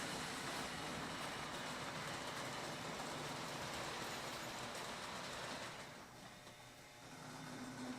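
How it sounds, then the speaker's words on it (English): A reconditioned Addams Family model train set runs steadily on O31 curved track with a continuous whirring rattle that dips briefly, as a second train starts, then picks back up. "I started the other train."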